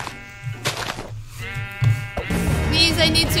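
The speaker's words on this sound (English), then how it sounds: "I'm gonna kill this sheep." Sheep bleating in the video game Minecraft, a few short nasal cries rising over a busy mix of game sounds and music, moderately loud and close.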